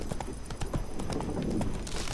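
Hooves of a horse galloping in The Witcher 3: Blood and Wine beat a rapid, steady clip-clop, loud and close, over a bed of game ambience.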